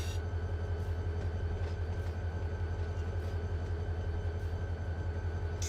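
Locomotives trimming cars in a busy rail yard in Run 8 Train Sim, a steady low diesel rumble with constant rail and engine noise, no talking.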